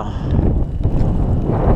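Mountain wind near Lac Blanc in the Chamonix Mont-Blanc area, with light snow grains in the air, roaring as a loud, steady low rumble and buffeting the microphone the whole time.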